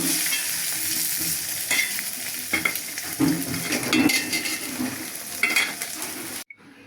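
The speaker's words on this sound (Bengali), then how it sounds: "কারণ একটা ডিম পোস্ট করে নিতেছি, ভাজি করছি" An egg fries in a pan, stirred and scraped with a utensil: a close, steady sizzle with irregular scrapes and light metallic clinks, cutting off abruptly near the end, with no speech.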